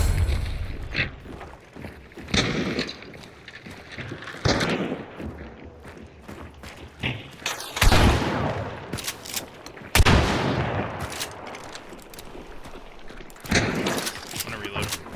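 Springfield rifle shots ring out in a swampy shooter video game, with sharp, loud cracks spaced several seconds apart amid other gunfire, while players talk between the shots.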